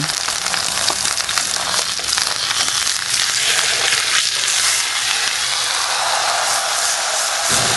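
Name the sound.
beef browning in a pot, sizzling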